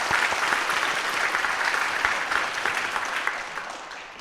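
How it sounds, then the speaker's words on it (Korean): A church congregation at a Sunday afternoon service applauds to welcome new members, steady moderately loud clapping that fades out toward the end. "우리 한번 환영의 박수 한번 하겠습니다"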